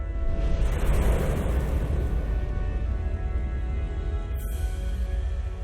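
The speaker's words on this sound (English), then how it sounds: "That is a lot of fire." Fire roars in Tales of Arise, a loud, deep, steady rumble that swells early and then eases into a lower continuous hiss, with no talk.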